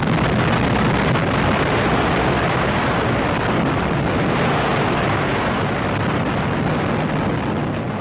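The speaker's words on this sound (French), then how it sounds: "Elle explose une quarantaine de secondes plus tard, à 600 mètres au-dessus de Hiroshima." A nuclear bomb explosion over Hiroshima, detonating 600 metres above the city: a massive, continuous roaring blast rumbles steadily for several seconds, a deep, loud wall of noise with no break or voices.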